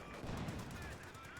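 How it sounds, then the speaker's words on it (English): A frag bomb going off during a competitive real-time strategy match, a dense burst of explosive blasts mixed with rapid gunfire that rattles steadily and loudly through the whole moment. "Interesting frag bomb."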